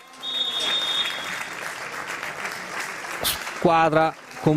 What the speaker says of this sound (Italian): squadre applaudite